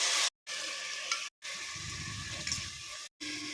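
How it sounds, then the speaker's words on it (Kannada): Chopped fenugreek leaves frying in hot oil in a pan for masala menthya bath: a soft, steady sizzle with occasional stirring scrapes, broken by a few brief silent gaps. "ಹಸಿ ವಾಸನೆ ಹೋಗಲಿ ಫ್ರೈ ಮಾಡ್ಕೊಳ್ಳೋಣ"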